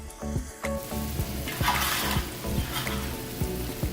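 Honey garlic sauce bubbles and sizzles in a frying pan while a spoon stirs through it, with steady close frying noise, soft scraping, and a few clinks against the pan.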